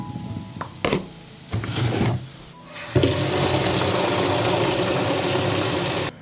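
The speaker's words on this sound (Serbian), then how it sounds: "Sipaću u flašu 5 litara vode." Water being poured into a bottle: a few short splashes give way to a steady, loud gushing stream that runs for several seconds and then stops abruptly.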